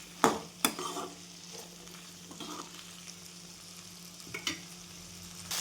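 Potato masala sautéed in oil in a pan, with a soft continuous sizzle broken by a few sharp stirring clacks near the start and again later, close and fairly quiet.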